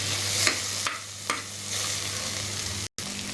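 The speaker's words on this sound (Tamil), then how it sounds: "இந்த மாதிரி நல்லா ப்ரௌனாக வதங்கணும்." Mutton kurma masala sautéing in a pan, a steady close sizzle broken by several sharp scraping stirs, with a brief dropout near the end.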